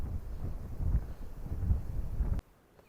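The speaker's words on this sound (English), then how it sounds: "it's breezy as well" Breeze on an exposed hilltop trail on Ventnor Downs, Isle of Wight, buffeting the microphone as a low rumbling gust that lasts over two seconds and then drops away suddenly to near quiet.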